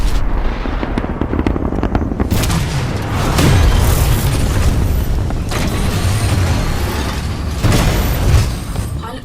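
A Titan dropping from the sky in Titanfall 2 multiplayer, heard as loud, continuous booming rumbles with repeated heavy impacts and mechanical clanks, close and dense, without talk.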